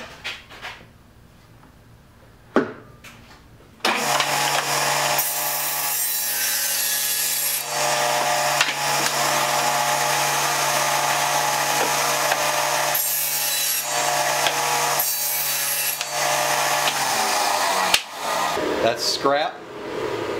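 A saw cuts through a sheet of plywood for building beehive nuc boxes, a loud sustained cutting run of about fourteen seconds after brief handling knocks, ending with a few clunks.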